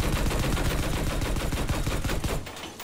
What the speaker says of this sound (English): someone's trying to shoot us at a ridiculous range with an anti-air gun of some sort